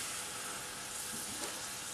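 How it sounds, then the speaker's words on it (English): Steady, close crackling hiss of butter sizzling in a hot pan, continuous and bright with faint pops, no voices. "Listen to that sizzle, oh, so good."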